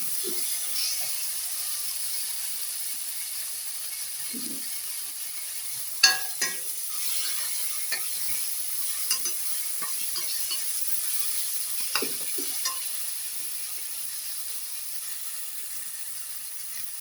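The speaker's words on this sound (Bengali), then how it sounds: "এটা দিয়েও আমি একটু ভালোভাবে কষিয়ে নেব, যাতে টমেটোর কাঁচা গন্ধটা চলে যায়।" Onion, ginger, garlic and tomato paste sizzle steadily in a pan for a fish curry while being stirred, with a soft constant hiss and occasional light scrapes and clinks of the spoon.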